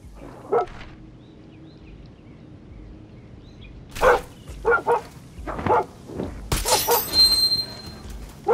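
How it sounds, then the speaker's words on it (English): Dog in the video game Far Cry 6 letting out a series of short, close barks and yelps spaced irregularly, with some whimpering between them over a quiet game background. "Okay, a dog?"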